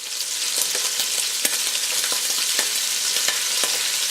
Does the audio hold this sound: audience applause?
no